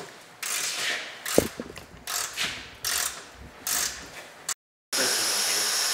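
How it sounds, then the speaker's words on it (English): Mechanical clunks, ratcheting and metallic scrapes come from an axle being installed in a Pontiac G8, in irregular bursts up close with a sharp knock early on. "Axle's going in."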